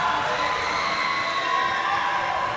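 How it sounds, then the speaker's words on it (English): Valley Central fans cheer and shout at a high school regional semifinal volleyball match, a steady, dense crowd roar that fills the gym without letup. "Credit to the Valley Central fans. Cheering to the end."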